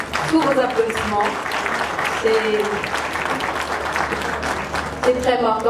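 Applause rises from a seated audience at the closing of a regional women, peace and security conference in Kinshasa. Continuous mid-level clapping carries throughout, with a voice talking briefly over it near the start and again at the end.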